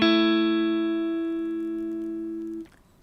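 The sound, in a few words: A power chord played on guitar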